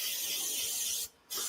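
Cooking spray hisses steadily into a small toaster oven pan while rice is being made, a close, continuous spray that breaks off briefly and then starts again.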